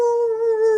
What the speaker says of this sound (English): Sometimes they bark when you sing or play instruments.